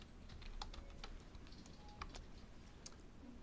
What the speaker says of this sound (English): And then if I type in phantom